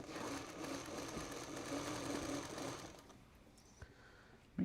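A sewing machine stitches log cabin quilt blocks, its steady motor whir running for about three seconds before stopping, followed by a few faint clicks and a sudden bump at the end.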